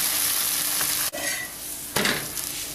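Multi-grain millet adai dosa made with kambu, kollu, ragi and green gram crisps on a pan, a close, even sizzle broken by two sharp spatula scrapes and clicks.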